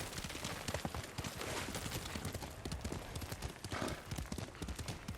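A horse trots in Ghost of Tsushima, its hooves beating a steady quick clip-clop over a busy background of game sound, close and continuous.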